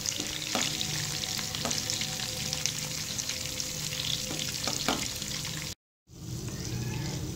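Fish fries in a pan with a loud, steady, crackling sizzle that runs continuously, broken once by a brief silent gap near the end before the sizzling resumes.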